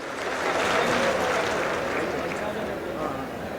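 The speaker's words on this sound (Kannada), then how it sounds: "ಜೋರಾಗಿ ಚಪ್ಪಾಳೆ ತಟ್ಟಿ ಅಭಿನಂದನೆಯನ್ನು ಸಲ್ಲಿಸ್ತಕ್ಕಂಥದ್ದು" Loud sustained applause from an audience at the inauguration of a brigade, a dense steady wash of clapping lasting several seconds with crowd murmur mixed in.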